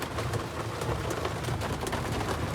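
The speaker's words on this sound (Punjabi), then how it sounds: "ਬਾਕੀ ਜੇ ਤਾਂ ਮੀਂਹ ਨਾ ਹਟਿਆ ਫੇਰ ਤਾਂ ਕੁਝ ਨਹੀਂ ਹੋ ਸਕਦਾ" Steady rain patters heavily and continuously on surfaces nearby, a dense even hiss with no voices.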